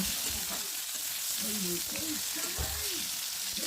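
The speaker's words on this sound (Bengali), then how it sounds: "চালতাটা আমি তেলের মধ্যে দিয়ে দিলাম দিয়ে একটু নাড়াচাড়া করে নেব" Boiled elephant apple (chalta) fries in hot oil, a constant loud hiss with occasional soft stirring scrapes, while a voice speaks faintly in the background.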